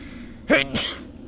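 A single sharp sneeze, close by, with a quick intake of breath before it and quiet room tone around it.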